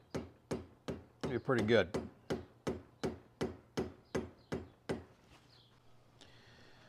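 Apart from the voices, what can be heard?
rubber mallet tapping a part into a Holley carburetor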